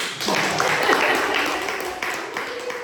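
An audience at a business plan presentation breaks into moderate clapping that rises quickly and then thins into scattered claps over a few seconds.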